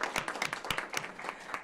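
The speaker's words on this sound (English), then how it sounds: "I'd like to give you just a public round of applause" Scattered audience applause at an equity action plan presentation, a small group clapping with distinct individual claps, brief and fairly quiet.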